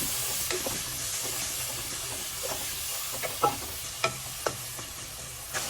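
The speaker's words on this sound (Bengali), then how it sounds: "এখন আমি ভালো করে মশলাটা কষিয়ে নিব।" Chili powder and garam masala paste is sautéed in oil for a pangas fish jhol. It makes a steady soft hiss with sporadic sharp spatula taps that grow more frequent toward the end.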